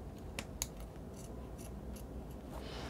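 Scissors notching the seam allowance of gown fabric, several quick faint snips in a loose rhythm against a quiet background hiss.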